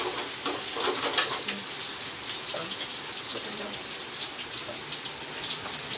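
Onions fry in a pan with bay leaves while an egg curry is being made, giving a steady, dense sizzle that holds at an even level throughout, with faint crackles and no talk.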